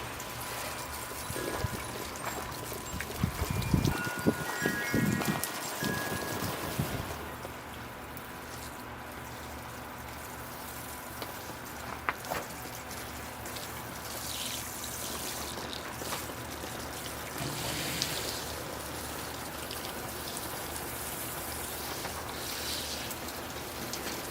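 Water rinses over a Ficus microcarpa bonsai tree grown from seed, a soft steady spray and trickle that is louder in a brief splashing burst early on, then continues as a gentle patter.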